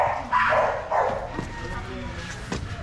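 Dogs bark in short bursts, close and fairly loud, with voices talking around them.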